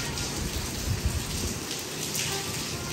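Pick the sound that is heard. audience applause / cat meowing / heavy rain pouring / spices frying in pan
heavy rain pouring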